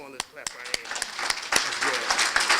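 Clapping hands from an audience at a building dedication ceremony, starting as a few scattered claps and swelling into fuller applause, with voices heard over it.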